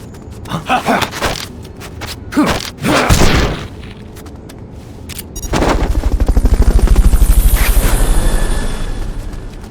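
A helicopter in the video game Metal Gear Solid: Peace Walker comes in with a loud, rapid rotor chop. Sharp booming game gunfire and blasts come before it, and the chopping swells and then fades slightly.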